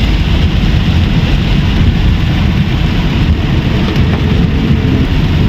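Heavy rain pours down on flooded Puerto Princesa City in a dense, steady roar, loud and close, with no wind and no voices over it.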